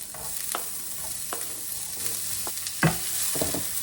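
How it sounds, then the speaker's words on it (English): Chopped onions fry in a hot pan, a moderate sizzle broken by scattered scrapes and clacks of stirring, with one sharper knock near the end. "once this is hot, we're going to add the chopped onions first."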